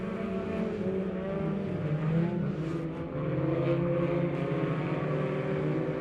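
Hornet-class race cars roar together on a dirt oval at Lebanon Midway, a dense, loud engine drone that swells briefly and then holds steady throughout.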